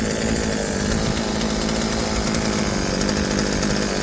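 A Poulan chainsaw engine runs steadily and loud at close range after a gas line replacement, its carburetor screws badly out of adjustment, giving a continuous, unbroken roar with no talking.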